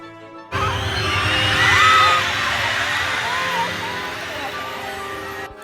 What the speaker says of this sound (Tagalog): Pakinggan nyo yung hiyawan nung pumasok si Elsa